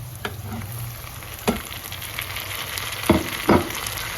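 Onions and tomatoes frying in a pan for a tomato chutney, a steady close sizzle broken by a few scraping stirs of the spatula near the start and end.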